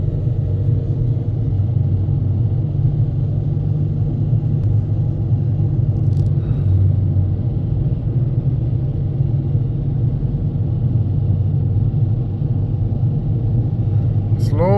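A Toyota semi-automatic MMT car with transmission fault codes P0810 and P0900 drives in first gear at about 3000 RPM, heard from inside as a loud, steady low engine rumble that holds evenly throughout.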